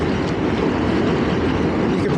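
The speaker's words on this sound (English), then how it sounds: "Another train on the upper level of this bridge." Train passing on the upper level of a bridge over the Bronx River, a steady broad rumble heard from below, even and unbroken.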